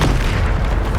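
The Bombarda spell in the Hogwarts Legacy video game bursts as a loud, close, deep boom filling the whole moment.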